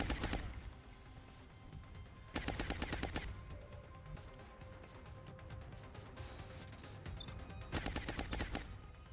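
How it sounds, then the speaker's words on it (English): Suppressing gunfire in the strategy game Long War: rapid bursts of automatic fire in several volleys separated by quieter stretches, moderately loud against a low background. "I don't want him flanking us. Suppressing fire."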